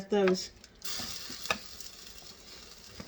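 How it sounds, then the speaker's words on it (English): A pan of pasta sauce, made creamy without cream, sizzles and bubbles softly, with a few spoon clinks and one brief tonal sound at the start, nearby and without speech. "let that cook, let that simmer"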